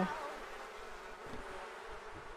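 Bees swarm and buzz around a beehive in a video game, a close, continuous droning hum that holds steady throughout, with no speech.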